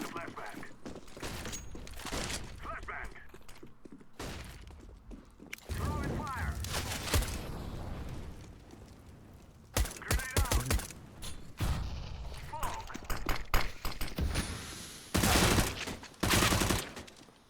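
Bursts of rifle and pistol fire in a CS:GO match rattle out in clusters, loud volleys separated by quieter stretches, with caster commentary running over them.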